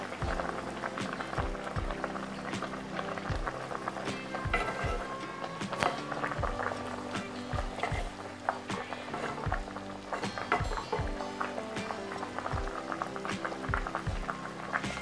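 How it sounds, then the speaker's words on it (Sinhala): A young jackfruit cutlet mixture boils hard in a covered pot over high heat, giving a steady, busy bubbling and rattling that continues without a break and without talk. "ගින්දර හොඳට වැඩි කරගෙන අපි මේක තැම්බෙනකන් වහලා තඹ ගමු"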